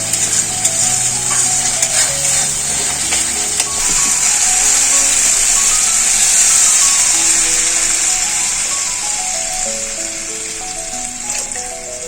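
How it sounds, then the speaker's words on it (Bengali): Mustard spice paste is stir-fried in oil in a pan, a loud steady sizzle and hiss with occasional scraping of the spoon, running alone without talk for the whole stretch. "আর মশলাটা আমি কষাতে থাকবো এতে সর্ষে আছে"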